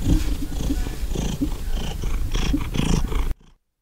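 A house cat purring, amplified very loud: a continuous rumbling purr with a steady rhythmic pulse, close and booming, cutting off abruptly at the end.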